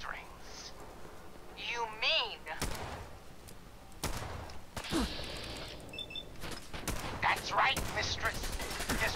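Bursts of gunfire in Fallout 4 crack out in quick volleys alongside electronic game effects, with voices talking over the action.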